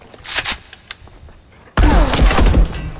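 A pistol shot in the Marauders space shooter sounds as a few sharp cracks early on, then a loud heavy burst of impacts and rumbling that carries on to the end.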